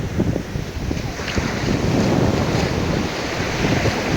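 Surf washes steadily onto a beach in Rio de Janeiro, a dense, continuous roar of breaking waves mixed with wind buffeting the microphone.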